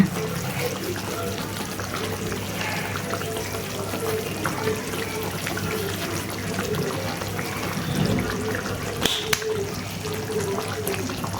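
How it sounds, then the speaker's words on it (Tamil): Water is poured into a pan of paneer butter masala, a soft continuous splashing and trickling up close. "கொஞ்சம் தண்ணியாக வேணும்னா நான் கொஞ்சம் தண்ணி ஊற்றிக்கலாம்"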